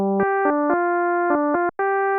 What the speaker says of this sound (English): Here's a modulator-carrier pair with a 1-to-1 tuning ratio.